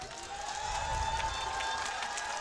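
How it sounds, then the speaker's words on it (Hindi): Audience at a Jagdishpur education society gathering stands and applauds, a dense, steady wash of clapping with crowd murmur, sustained and fairly close throughout. "एक बार खड़े होकर सब लोग तालियां बजा दें"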